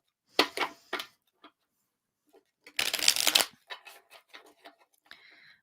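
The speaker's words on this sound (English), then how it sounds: "one more shuffle for Scorpio" Tarot cards shuffled by hand in a quiet room: a few crisp riffling bursts, then one long dense riffle near the middle, followed by lighter taps and flicks of the deck, close and clear with no talking.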